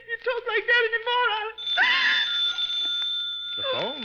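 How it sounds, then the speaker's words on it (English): A telephone rings in a 1951 radio mystery drama, with a voice talking before the bell sounds and a drawn-out, warbling ring carrying on for several seconds. "The phone, Matilda."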